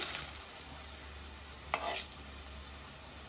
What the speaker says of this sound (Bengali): তেলটা গরম হয়ে গেছে, এটার মধ্যে আমি জিরা অল্প দিলাম, আধা চামচের মতো জিরা দিচ্ছি।